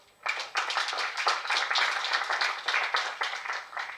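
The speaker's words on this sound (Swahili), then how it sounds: "Makofi kwa Paul." Steady applause from an audience at an agribusiness youth competition, a dense run of hand claps that holds for several seconds without a break and no voices over it.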